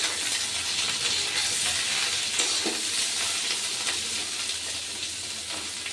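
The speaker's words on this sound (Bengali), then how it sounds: "এবার উচ্ছে ভাজাটাকে আমি একটু নেড়ে দেবো।" Bitter gourd frying in a pan as it is stirred, a steady close sizzle and hiss with scraping stir sounds running through.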